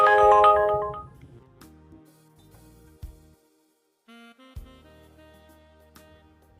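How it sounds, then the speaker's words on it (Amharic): A mobile phone ringtone plays as a melodic electronic tune, loud at first and then continuing more softly in repeating phrases, with a brief pause midway and no talk over it. "ይቅርታ አለው ስልክ ገብቶብኝ"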